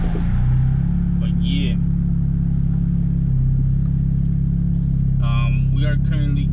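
A turbocharged four-cylinder Honda Civic EP3 cruising along with a steady, droning engine hum heard from inside the car, with someone talking over it.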